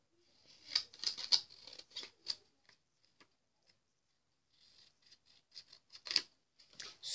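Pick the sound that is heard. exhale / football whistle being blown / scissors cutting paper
scissors cutting paper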